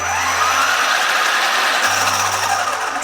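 The small electric motor of a Traxxas X-Maxx V5 RC truck whirs steadily and loud up close, a constant high buzzing hum that swells slightly with throttle, with no talking.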